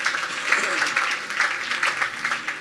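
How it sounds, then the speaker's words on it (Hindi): Church congregation clapping during a Hindi-language Sunday worship service, a steady wash of many hands applauding together for a few seconds, fairly close and continuous. "ताली बजा के बोलो यीशु धन्यवाद"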